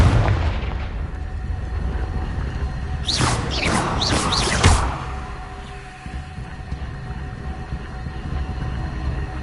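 A Confringo blasting spell in a Harry Potter video game erupts as a burst of several sharp booms and crackling bursts midway, trailing into a low rumbling tail over steady game ambience.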